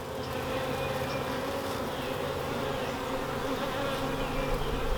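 Honeybees swarm over a hive frame during a first inspection of a new hive, making a dense, continuous droning hum of many wings, steady and close throughout.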